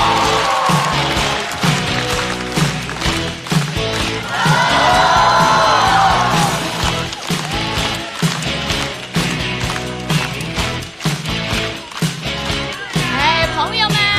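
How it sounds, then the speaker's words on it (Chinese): Audience cheering and clapping at a stand-up comedy show as a comedian walks onstage, a loud sustained roar with whoops and claps continuing throughout. "掌声有请 Echo"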